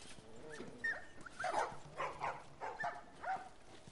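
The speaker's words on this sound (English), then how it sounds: "I hear a doggo." Dog in The Last of Us video game heard faintly at a distance, giving a few short yips and whimpering barks in an irregular run over quiet background ambience.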